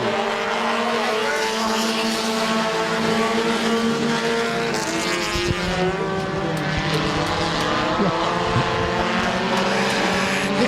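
Compact race cars roar around Midvale Speedway in a loud, steady drone of several engines, continuous and close with pitch shifting as they pass down the backstretch.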